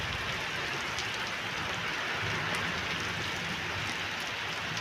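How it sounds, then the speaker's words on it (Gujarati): Heavy monsoon rain pours steadily onto open ground in Lilapur village, a dense, unbroken hiss that stays at an even level throughout, with no voices. "વરસાદ છે એટલે મસ્તીનો એકદમ મસ્ત પડે"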